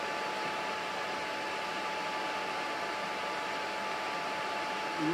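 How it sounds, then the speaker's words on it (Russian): Vacuum cleaner running steadily during a bronze lost-model casting setup, a constant close hiss-like whoosh with a faint tonal whine, unchanged throughout. "этот пылесос у меня включен."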